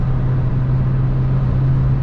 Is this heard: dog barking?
no